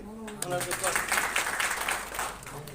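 An audience breaks into applause for a guest at a religious gathering, a moderate wash of clapping, with a voice heard talking just before and after.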